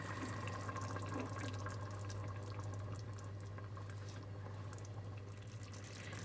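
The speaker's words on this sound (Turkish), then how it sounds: "Beş dakikadır ortalama bu şekilde kaynıyor" A pot of water for bulgur pilaf simmers on a turned-down stove at a steady low bubble, a quiet continuous burble with faint drips over a constant hum.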